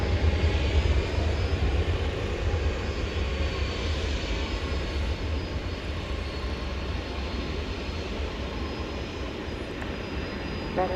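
An American Airlines jet rolls for takeoff on runway 18 Left at DFW on a hot night, a broad distant engine roar that holds steady and eases slightly over eleven seconds, with no voices.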